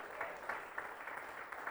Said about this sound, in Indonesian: Berikan sorak-sorai yang meriah buat Dia